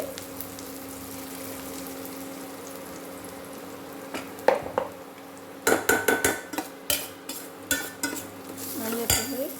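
Onions sautéing in a pan with turmeric powder for a bitter gourd kara kuzhambu give a soft, steady sizzle, and a spoon stirring them sets off a burst of close metallic clinks and scrapes.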